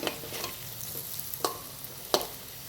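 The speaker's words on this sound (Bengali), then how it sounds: "ডালের বড়ার একটা সাইড হয়ে গেছে, এবার এটাকে আমি উল্টে দেবো" Lentil fritters (dal bora) fry quietly in oil with a soft, steady sizzle, joined by two or three sharp utensil clicks as they are turned.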